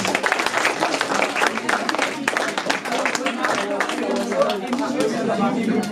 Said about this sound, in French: Bravo, encore applaudissez s'il vous plaît, le groupe 6.